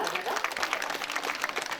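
An audience at a school's annual adolescent girls' group celebration claps together, a dense patter of many hands, fairly close and steady for a couple of seconds.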